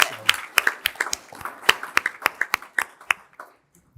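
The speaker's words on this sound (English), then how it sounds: "give them one more Competitive. round of applause" Scattered hand claps from a small group at a school board meeting, sharp and uneven, tapering off after a few seconds while a voice talks underneath.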